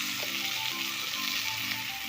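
Small fish coated in salt and turmeric fry in a kadai with a spoonful of oil. A steady, close sizzle runs throughout, with faint tonal sounds in the background.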